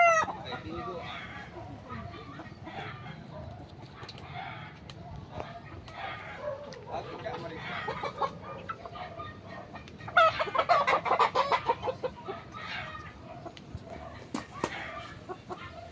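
Backyard chickens clucking near and far in a steady, busy chorus, with a louder flurry of squawks and clucks in the middle and voices talking underneath.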